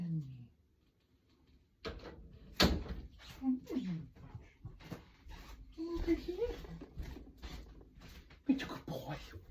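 A door opens at home to let a cat in, giving a few knocks and shuffling handling sounds after a quiet start, while a person talks close by.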